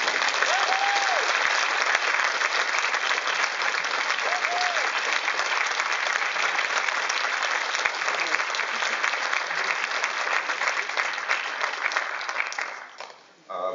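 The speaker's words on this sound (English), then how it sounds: "Vous applaudissez." Sustained audience applause at a film festival screening Q&A in Neuchâtel, a dense steady wash of clapping lasting over ten seconds before tapering off near the end, with a few faint voices beneath.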